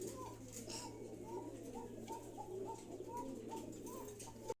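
Fancy pigeons at a seller's lofts coo softly in repeated short phrases, faint against a steady background hum, with a brief noise at the very end.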